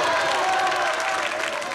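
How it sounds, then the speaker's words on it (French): A game show studio audience applauding a contestant, a dense, close wash of clapping with some crowd noise, steady for its short length. "On l'applaudit"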